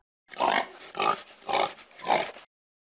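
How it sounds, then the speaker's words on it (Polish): Four rhythmic pig oinks, evenly spaced and fairly close, standing alone with no talk around them. "A wiesz, jak robi świnka?"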